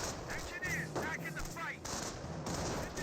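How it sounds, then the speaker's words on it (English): MG42 machine gun in Company of Heroes firing short rapid bursts amid battle noise, with distant gunfire and a faint voice in the background. "It took a small burst there. It actually got suppressed by this MG42 as well."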